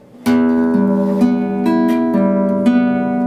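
An acoustic guitar fingerpicked string by string in a continuous rolling pattern, sixth, third, second, first, third, second strings, notes ringing into each other with a low bass note underneath, close and clear.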